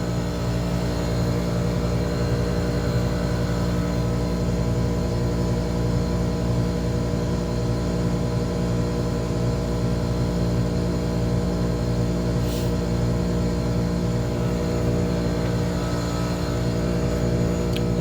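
An HVAC unit run by a Carel controller hums with a steady, loud compressor drone and constant mechanical whir, unchanging throughout with no voices.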